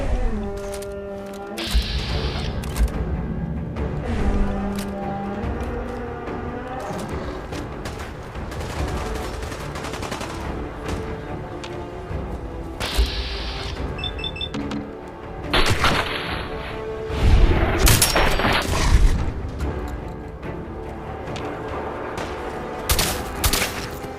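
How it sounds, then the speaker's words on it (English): Gunfire in the video game Fallout 4, with loud bursts of shots and rapid volleys scattered through the stretch amid game sounds and music, with no speech. "I feel like Tom's here using the shotgun"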